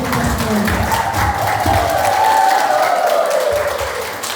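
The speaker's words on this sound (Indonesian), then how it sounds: "Tepuk tangan dulu" A crowd at a district health-cadre competition claps together in sustained, loud applause, with a voice faintly audible beneath the clapping.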